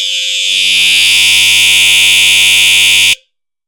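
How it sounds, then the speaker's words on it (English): A building fire alarm blares during a system walk test, a loud, steady electronic tone that starts abruptly, holds for about three seconds and then cuts off sharply into silence. "I don't like that alarm"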